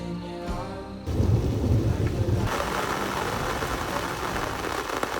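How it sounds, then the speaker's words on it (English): Heavy rain pours steadily outside a container house, with a deep rumble of thunder rolling in near the start, then a dense, loud hiss of rain drumming on surfaces that continues without any voices. "And then I woke up to rain"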